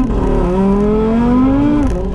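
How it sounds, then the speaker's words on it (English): An Audi RS3 with a freshly adapted clutch spinning its tires on a wet road in the rain, heard as a loud, close engine rising in pitch under load, with a steady hiss throughout. "Oh, that's a little tire spin."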